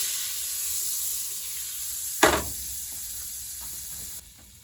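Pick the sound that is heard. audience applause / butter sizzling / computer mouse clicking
butter sizzling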